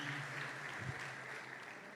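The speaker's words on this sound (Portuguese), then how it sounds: "Pode aplaudir ao Senhor pela vida deles" Church congregation applauding during a service, a faint, steady wash of clapping from a distance lasting the full two seconds.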